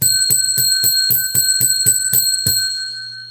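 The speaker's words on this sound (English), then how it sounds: "You get 10 rings of the bell." A bell rings ten times in a steady quick rhythm, each strike bright and metallic with a sustained ringing tone that lingers and fades after the last hit; no voices.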